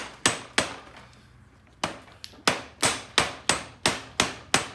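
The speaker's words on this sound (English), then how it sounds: "I'm going to take the rubber mallet and just kind of" A rubber mallet knocks a hinge bar loose on a gaga ball pit panel, landing about a dozen close, dull thuds. A few come early, then after a pause they fall in a quick, steady rhythm.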